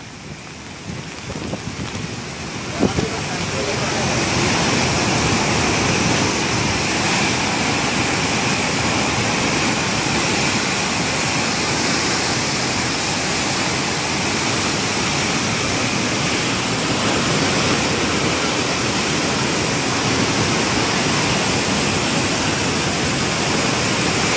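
Floodwater near the 1988 flood mark rushing in a loud, steady, broadband roar that continues unbroken with no voices.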